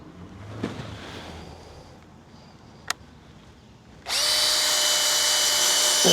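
A power drill bores small 1/8 inch drain holes into a kayak trailer rod tube, starting abruptly as a loud, steady high whine that runs without a break to the end. Only faint background noise comes before it.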